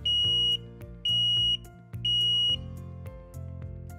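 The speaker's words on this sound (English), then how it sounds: "The button will emit an alarm that matches the flash pattern of the light." A Banner K50 Pro touch button sounds an audible alarm close up, three sharp pulsed beep bursts in a steady on-off pattern followed by a quieter continuing tone.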